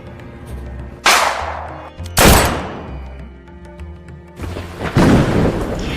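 Gunfire aimed at crowds of demonstrators, rendered as a sound effect: several heavy, loud cracking reports with long booming tails echo one after another over a low rumbling bed.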